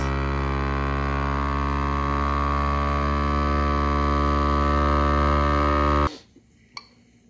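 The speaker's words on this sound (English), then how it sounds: "We're going to make sure that the vacuum sealer is on, and I'm going to vacuum and seal" A vacuum sealer runs with a loud, steady electric motor hum for several seconds, sealing a jar, then cuts off abruptly, leaving near silence and a small click.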